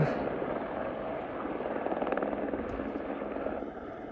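A landing helicopter roars with a steady, thick rotor drone, loud and fairly close, holding an even throb throughout, near ABC camp.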